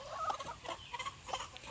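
Backyard hens cluck in short, irregular bursts while pecking at squash, their soft calls close but fairly quiet, with no talking over them.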